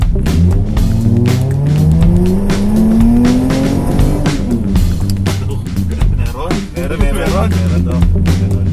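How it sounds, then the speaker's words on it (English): Mazda CX-9 with a 3.7L V6, K&N intake, modified full exhaust and ECU remap, revving loudly nearby; the engine note rises and falls through a couple of sustained revs, with voices talking over it. "Hindi, yung exhaust nga, yung natunog."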